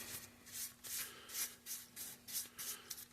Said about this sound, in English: we'll start scraping this paint off and getting it off with the steel wool